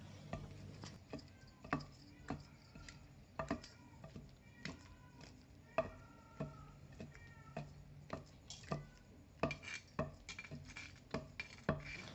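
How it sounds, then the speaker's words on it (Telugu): Okra chutney pounded by hand with a mortar and pestle in a home kitchen: a long run of sharp, irregular thuds and knocks, close and moderately loud, with no voices over them. "వేసుకున్నాక బాగా దంచుకుందామండి."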